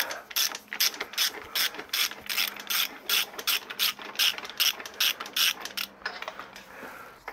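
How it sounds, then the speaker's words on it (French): A hand ratchet fitted with an extension and a 16 mm socket clicks rapidly in repeated bursts of strokes during clutch kit work on a Peugeot 206 1.4 HDi, close and clear with no voices. "on va prendre une rallonge avec une douille de 16."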